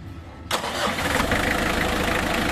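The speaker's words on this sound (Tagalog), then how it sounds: "kaya pa-start ko na lang itong makina" A Mitsubishi L300 engine cranks and catches about half a second in, jumping from a quiet hum to a steady, close idle with no belt squeal, and no one speaks.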